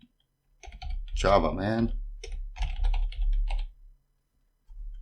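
Clicking on a computer keyboard while coding HTML, light taps partly buried under a man's close, clear speech, with short quiet gaps between phrases.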